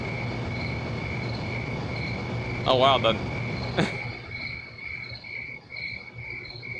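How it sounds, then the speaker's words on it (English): Crickets chirp steadily inside a building in the video game Trauma Center: Second Opinion, a continuous pulsing drone that runs throughout while a voice briefly speaks over it. "the crickets are loud as hell in this building"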